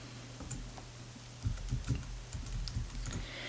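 Someone types login information on a computer keyboard, with a short burst of quiet, close key clicks in a calm room.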